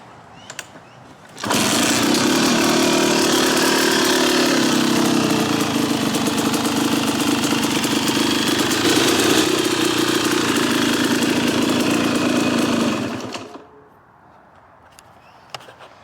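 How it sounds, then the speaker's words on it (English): A 2008 KTM two-stroke dirt bike with carburetor trouble starts and holds a loud, buzzy, steady idle close by for about twelve seconds, then cuts off abruptly, leaving quiet with a few faint clicks. "That was the 2008 KTM two-stroke."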